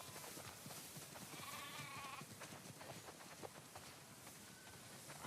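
Sheep in The Last of Us Part II give a few faint bleats, one of them longer, over soft rustling and shuffling from the flock. No one speaks.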